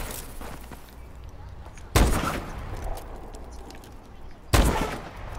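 Gunfire in Call of Duty Advanced Warfare: two loud, sharp, booming shots a few seconds apart stand out over a steady background of game ambience and faint distant firing.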